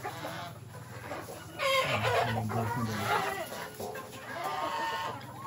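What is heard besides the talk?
chickens clucking at feeding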